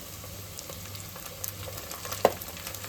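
Frying in a pan while cooking egg biryani, a soft steady sizzle with occasional light clinks and one sharper knock near the end, no voices.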